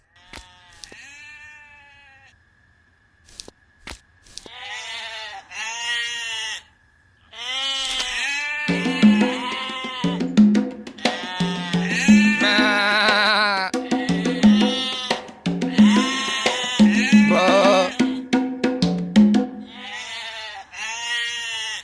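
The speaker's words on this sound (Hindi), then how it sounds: "जाकर देख तो बकरियां क्यों चिल्ला रही हैं।" Several goats bleat repeatedly at close range, their loud wavering cries overlapping and growing more frequent and crowded after a quieter start.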